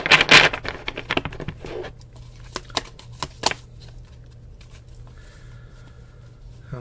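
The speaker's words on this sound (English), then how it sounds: "Okay, one more shuffle." Tarot cards riffle and slap together in a quick flurry of crisp flutters, followed by a few scattered taps and soft shuffles in a quiet room.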